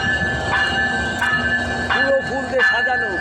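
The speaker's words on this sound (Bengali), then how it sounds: "ওয়াও, এই তো চলে এসেছে ট্রেন, ঝক ঝক ঝক ঝক" A flower-decked train pulls into Narail railway station on the newly opened Dhaka–Benapole line, its steady rumble and rail clatter running throughout, with sharp metallic squeals and a whistle-like tone rising near the end; voices are heard faintly underneath.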